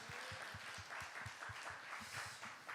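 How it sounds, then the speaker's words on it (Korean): Church congregation at a winter retreat service applauding, rhythmic unison clapping heard faintly at a distance, steady beats continuing throughout. "우리 영광의 박수 올려드리겠습니다."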